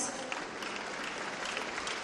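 Applause from an audience at the opening ceremony of the India International Science Festival at the MANIT campus in Bhopal, greeting a newsletter release; a steady, dense wash of clapping held at an even level for the whole stretch.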